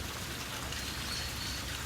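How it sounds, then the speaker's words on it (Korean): Cool mountain stream water runs down from the hills into the grounds of Bokcheonsa temple in Yeongdo, Busan, a steady broadband rushing and splashing, close and continuous without pause. "시원한 물소리가 들립니다"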